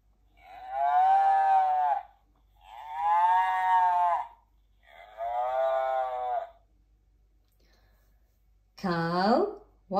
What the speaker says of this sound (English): With a moo-moo here, moo-moo there